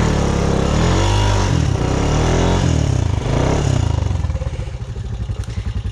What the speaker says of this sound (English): The tires are just spinning.